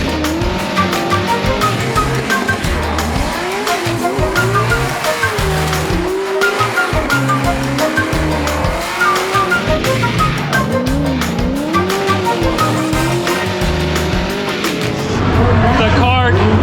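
Race cars powering through a chicane on a track, loud engines revving and shifting with repeated tire squeal and skidding, continuous and close, with a voice speaking over the din.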